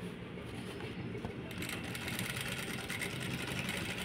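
A sewing machine stitches between beads on a maggam work blouse, a continuous close whirring motor drone that grows slightly louder partway through, with no speech.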